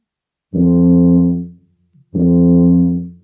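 Two sustained low buzzing tones on a tuba mouthpiece, each about a second long, separated by a short pause, loud and close with no talking.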